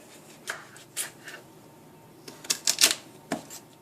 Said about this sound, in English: Now the sweet potato I did peel. And I'm just going to go ahead and cut that as well.